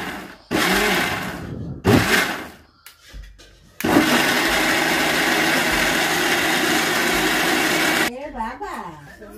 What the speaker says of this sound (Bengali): এখন চালের গুঁড়োটা যে ভিজিয়ে রাখছিলাম সেটা ব্লেন্ডার করব।